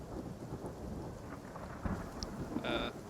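Steady, fairly quiet rain falls with a low rumble of distant thunder beneath it, a few faint knocks and rustles scattered through the wash.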